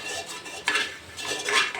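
A metal spoon scraping the bottom of a burnt cooking pot, two or three rough, close strokes with brief metallic rasps.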